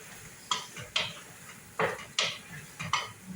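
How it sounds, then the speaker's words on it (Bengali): Spoon clattering against a pan while turmeric and spices are stirred into vegetables such as gourd, carrot and eggplant, with sharp scraping knocks in an irregular rhythm, close and fairly quiet. "এই যে হলুদ আছে, ভালো করে একটু নাড়াচাড়া করে নেবেন।"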